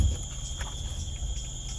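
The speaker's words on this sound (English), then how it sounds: "Apatosaurus cannot hear anything over the buzz of insects" A steady, high insect drone fills a forest, continuous and even, with faint chirps layered over a low background hum and no voices.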